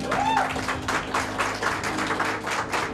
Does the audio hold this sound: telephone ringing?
no